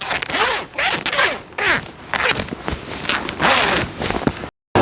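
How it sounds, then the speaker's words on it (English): A rope, with a lunge line attached, is handled and pulled close by, giving repeated rough, zipping swishes and rustles in quick irregular bursts. "Now the rope's going to make a little bit of noise."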